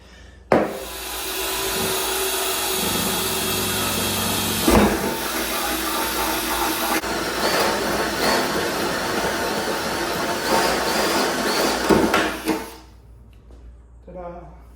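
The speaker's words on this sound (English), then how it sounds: "And then we'll use this hole saw that looks like it's made to cut wood." A hole saw made for wood cuts through an aluminum fuel tank in one long, loud grinding drone that runs about twelve seconds, with a sharp start and a short clatter near the end.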